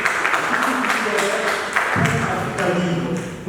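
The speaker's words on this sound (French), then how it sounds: "nous allons l'applaudir" An audience at a national eloquence competition applauds, many hands clapping in a dense, steady patter that carries on for several seconds at close, strong volume.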